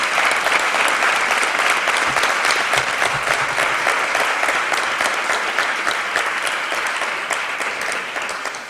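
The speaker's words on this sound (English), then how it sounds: "Let's give these young people an inspiring round of applause." A crowd at a youth debate event applauds steadily and densely for almost nine seconds, a full wash of clapping that eases off slightly toward the end.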